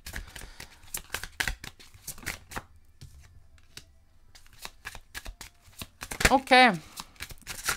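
Tarot cards are shuffled and drawn in a series of quick, close riffling and slapping bursts, loudest near the end, while someone speaks over and between them.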